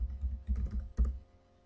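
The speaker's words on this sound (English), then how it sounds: "I'm going to type in test document." Typing on a computer keyboard gives a short burst of soft, dull keystrokes in three quick clusters, close and quiet, fading out within about a second and a half.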